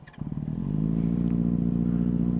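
A Benelli 600i motorcycle fitted with a loud dual SC exhaust cranks briefly, then catches and settles into a loud, deep, steady idle rumble close by, with no talking.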